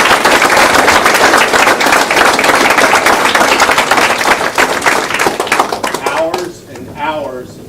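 A banquet audience at a senior athletic awards night bursts into loud, dense clapping that carries on for several seconds before thinning out, and a voice speaks over the fading applause.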